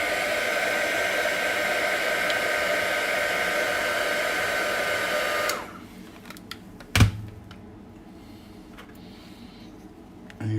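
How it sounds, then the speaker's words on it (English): Heat gun warms the screen of an iPhone 7 during a repair, blowing a loud steady whoosh for several seconds before cutting off, followed by a sharp thunk and quiet handling. "I'm going to heat it from the opposite side this time."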